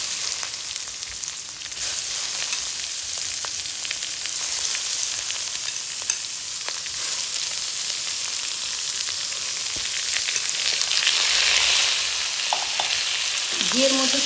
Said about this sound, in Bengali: ঘিয়ের মধ্যে চালগুলো দিয়ে দেওয়ার পর 1 মিনিটের মতন চালগুলোকে ঘিয়ের সাথে খুব ভালোভাবে মিশিয়ে নেব